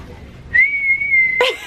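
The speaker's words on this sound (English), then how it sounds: "Blowing in the whistle." A single steady, high-pitched whistle note held for about a second, close and loud, ending with a brief rough burst.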